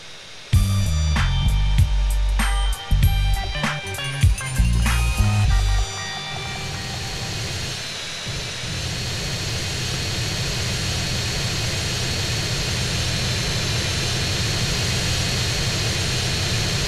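A jet airliner coming in to land in Grand Theft Auto San Andreas, its engine roar a steady loud drone throughout, with bursts of game music at the start before the plane noise settles alone.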